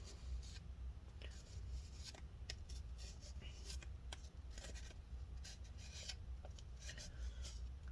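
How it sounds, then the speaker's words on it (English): A mixture scraped and stirred together with a tool, heard as quiet, close rubbing and scratching strokes with scattered small clicks over a steady low hum. "Stir it all up. Scrape it all together."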